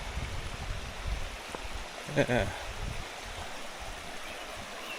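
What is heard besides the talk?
waterfall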